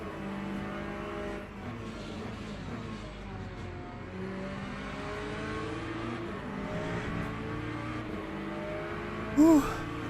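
BMW race car in the Le Mans Ultimate video game at Sebring, its engine droning steadily with shifting pitch alongside other cars close by, with a brief high-pitched squeal near the end.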